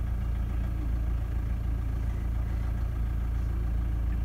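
A diesel car engine idling roughly, a close, steady low rumble with a slightly uneven, pulsing beat that continues unbroken, no voices.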